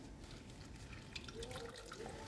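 Water drips and trickles faintly as it is squeezed out of salted cabbage for a pickle, a soft, continuous splashing with a few brief drops, close by and quiet.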